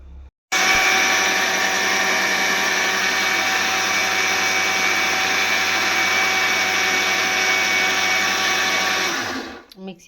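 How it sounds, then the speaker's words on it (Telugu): A kitchen mixer grinder whirs as it grinds ragi flour batter for dosa, switching on abruptly and running at a loud, steady high-pitched drone for about nine seconds before winding down. "మిక్సీకి అయితే పట్టేసాను."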